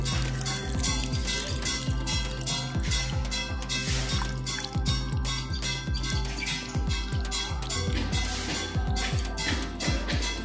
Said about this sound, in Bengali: এবার এতে আমরা জল দেব খুবই সাবধানে আসতে।